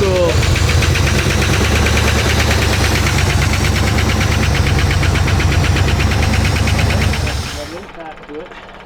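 A 1968 Oldsmobile 442 muscle car engine idles loud and close with a rough, pulsing lope and mechanical knocking, then shuts off and fades near the end, leaving faint noise.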